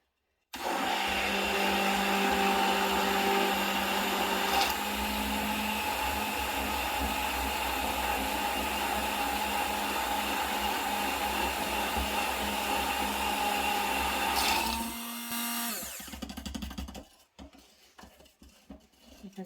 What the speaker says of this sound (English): So I've got my stick blender here.